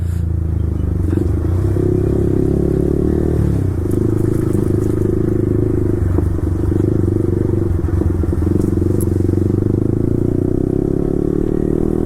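A Yamaha R15 V4 motorcycle with an Akrapovic exhaust runs close and loud, a steady, throaty engine drone that holds level throughout, with faint clatter on top.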